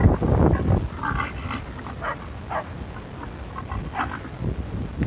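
A small, fearless working farm dog barks in a few short bursts close by, with louder low-frequency rumble and animal noise at the start and no talking.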